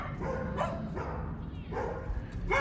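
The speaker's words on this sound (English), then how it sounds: "I really hate their dogs." Neighbours' dogs bark in a run of short, repeated yaps that carry from some distance over a low steady rumble outdoors at night.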